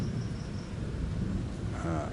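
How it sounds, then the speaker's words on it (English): A thunderstorm with rising wind rumbles outdoors, a dense, steady roar of low thunder and rain-like wash filling the short stretch, loud and continuous with no voices. "the wind is picking up slightly at the moment, and then the lightning is getting a bit more frequent"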